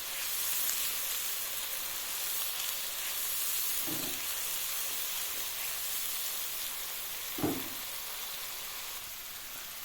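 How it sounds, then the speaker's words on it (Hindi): Spices, onion and garlic frying together in a pan for Lahori chickpeas, a steady soft sizzle and hiss with two brief stirring clatters, no talking. "अब इन मसालों को आपने अच्छे तरीके से कुक करना है, प्याज के साथ, लहसुन के साथ।"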